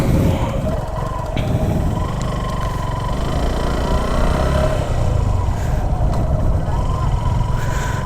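A Suzuki Gixxer SF FI ABS motorcycle with a chain and sprocket problem rides along, its engine giving a steady, close droning roar that holds at the same level throughout with no gaps.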